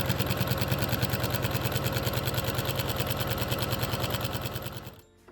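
A sewing machine fitted with a walking foot runs steadily, stitching bias-cut binding around the curved edge of a quilted car seat poncho. The motor hums in a fast, even rhythm, close and loud, with no talk, then stops near the end.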